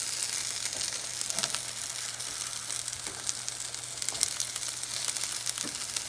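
Cheddar bacon keto pierogies crackle and sizzle steadily in a hot pan, close and continuous, with scattered sharper pops and no one talking.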